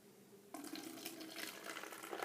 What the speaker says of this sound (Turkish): Leş gibi kokan sirkemizi döküyoruz biraz.